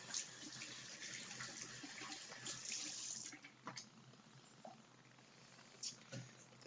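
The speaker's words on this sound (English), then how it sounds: "Rinse my hands off." Running tap water splashes steadily as hands are rinsed under a faucet after hair styling, a continuous wash with a few brief knocks and drips near the end.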